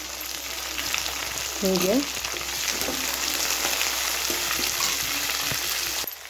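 Tomato and onion fry in a pan for lemon rice, a steady sizzle with stirring scrapes throughout, and a voice briefly speaks over it early on.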